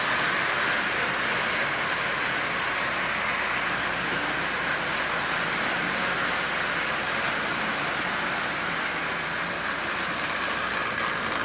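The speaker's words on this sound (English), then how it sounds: "That little engine is running absolutely perfectly." Marx 595 toy train engine running at half power, giving off a steady, faint whirring hum that holds level and unbroken throughout.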